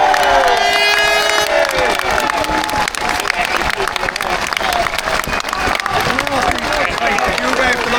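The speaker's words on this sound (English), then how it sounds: "Massive round of applause now for Henry Nowak!" A protest crowd outside a Southampton police station cheers, whoops and applauds loudly and close by, with dense clapping and shouting voices throughout and people talking over the noise.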